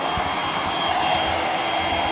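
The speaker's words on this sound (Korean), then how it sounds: "이건 헤어드라이기잖아요." A hair dryer blows with a steady, loud whoosh of air and motor hum, running continuously without any change.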